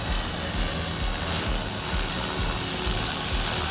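An ALZRC Devil X360 RC helicopter hovers nearby with a steady, loud, high-pitched whine of rotors and motor, the drone holding constant throughout.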